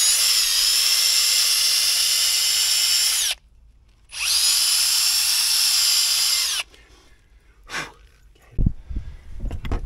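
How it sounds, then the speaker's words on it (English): A power drill bores out a bolt hole on a boat in two long, loud whining bursts separated by a brief pause, followed by quieter handling clatter and knocks. "I'm going to drill that out to fit this a bit better."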